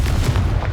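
In Hogwarts Legacy, the Confringo fire spell detonates as a short, loud, booming blast with a heavy low rumble, lasting under a second.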